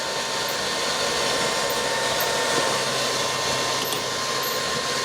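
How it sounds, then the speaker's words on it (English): A compressor runs continuously, pulling a vacuum on a repurposed helium tank, giving off a steady mechanical hum with a faint whine and no break in the drone. "Let the compressor suck itself down."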